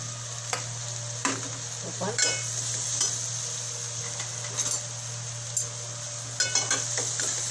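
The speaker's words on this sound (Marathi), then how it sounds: "कांदा लालसर झाला आहे त्यात मी आता टॅमॅटो टाकते" Tomatoes sizzle in a pan with browned onions for a Malvani-style mushroom dish, a steady frying hiss under repeated clinks and scrapes of a spoon stirring, moderately close and without talk.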